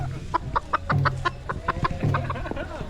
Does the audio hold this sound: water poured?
no